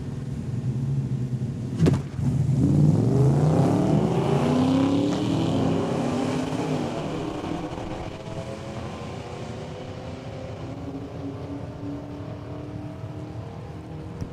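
Drag racing cars, including an '86 Mustang, launch at Saskatchewan International Raceway with a sudden loud roar that builds, then thins and fades as they pull away down the strip.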